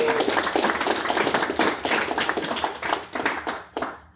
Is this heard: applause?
yes